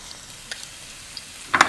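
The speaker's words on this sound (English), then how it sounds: "In our garlic goes." Garlic drops into a hot frying pan; after a near-silent stretch with faint clicks, a short, close crackling sizzle bursts out at the very end.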